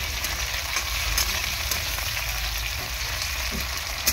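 Fried onion and chopped tomato sizzle loudly in a pan while being stirred, giving a steady close crackle with faint occasional scrapes and no talk.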